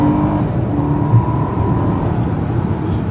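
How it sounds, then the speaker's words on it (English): A 2015 Mercedes S500 with a 455 PS engine accelerating hard, heard from inside as a loud, steady engine drone and road roar that holds strong throughout. "So we are now going to do the acceleration test."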